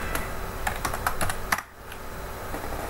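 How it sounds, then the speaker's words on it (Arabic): Quick keystrokes on a computer keyboard typing a game title into a search box, a handful of sharp, close clicks over a steady background hiss, with a brief lull midway. "كتبت فيفا 2007 في السيرش"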